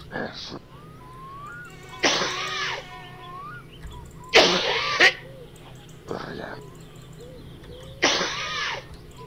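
A character coughs in the driving game My Summer Car: four harsh, broadband bursts spaced about two seconds apart, each fairly loud and close, with a faint low hum running underneath.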